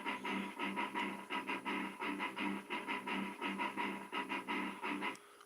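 Guitar loop built in GarageBand on iOS, a rhythmic strummed pattern repeating in short even bursts at steady moderate volume, with no talking over it.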